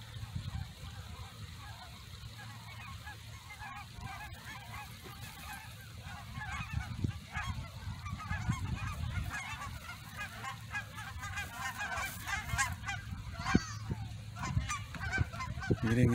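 Loud honking and quacking from a group of ducks, continuous and overlapping, over outdoor water and ambient noise on the grounds of a former air base.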